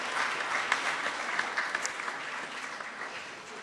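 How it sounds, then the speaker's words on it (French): A church congregation applauding during a Sunday service, a dense even round of clapping from many hands in a reverberant hall, steady and moderately loud for several seconds without speech. "Donc vraiment là aussi on peut les applaudir et pour les remercier."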